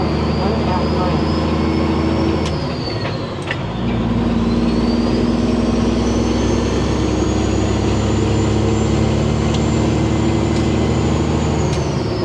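A semi truck drives on a Michigan road with a loud, continuous engine drone heard from inside, its pitch rising and falling slowly as it shifts, with a brief dip in the middle.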